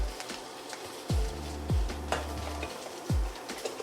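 Chorizo frying in a hot pan while being broken up with a utensil: a steady low sizzle under four distinct scraping, knocking strokes spaced about half a second to a second apart, close and moderately loud.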